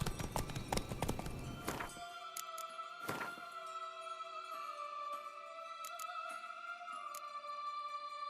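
Hooves of a horse clip-clopping in The Witcher 3: Blood and Wine, a cluster of sharp knocks at the start followed by a few spaced thuds and taps over a quiet background of sustained musical tones.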